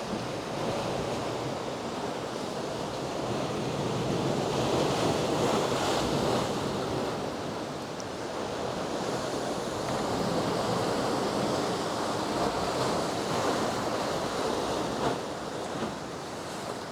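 Ocean waves and a big swell surging into a gulch at high tide, a constant loud roaring wash with slow swells of louder surf, mixed with wind buffeting the microphone.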